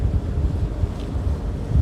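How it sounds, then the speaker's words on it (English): Strong wind buffeting the open deck of a ferry off Cobh, Ireland on a cold March day, a steady low rumbling roar with gusty swells throughout and no voices. "Very, very windy and cold out here today."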